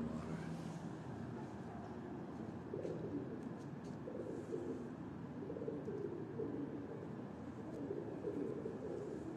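Pigeons cooing in a loft or yard, soft repeated low coos rising and falling over a steady background hum, with birds calling close by throughout.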